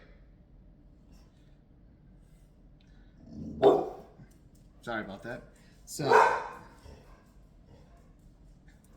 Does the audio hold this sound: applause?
no